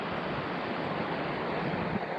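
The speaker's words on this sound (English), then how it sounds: "Look at the river, Dylan." Water of the North Fork of the Virgin River rushing over a waterfall in Zion National Park, Utah: a loud, steady broadband roar that holds unbroken throughout with no voices.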